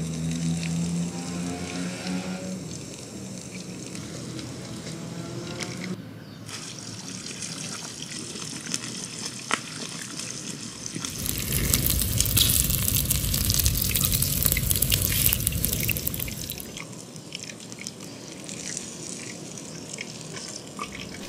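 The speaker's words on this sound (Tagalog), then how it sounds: "So drop na natin to at puro prito na tong maririnig natin." Steady crackling sizzle of pork belly (liempo) deep frying in hot oil, growing louder and denser for several seconds midway before settling back to a softer bubbling.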